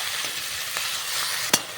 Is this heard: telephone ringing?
no